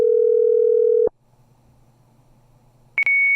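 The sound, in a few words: telephone tone while making a prank phone call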